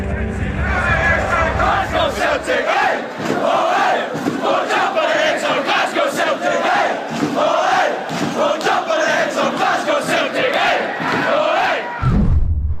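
Rangers football supporters chanting in unison at a Glasgow Old Firm derby, a massed, loud, rhythmic crowd chorus that carries on steadily before dropping off abruptly at the end.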